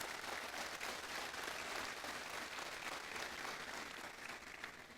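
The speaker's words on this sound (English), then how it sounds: "I think they deserve some form of applause" Steady, dense applause from a large audience at a 2019 university graduation ceremony, continuous broadband clapping filling the hall for the full stretch with no talk over it.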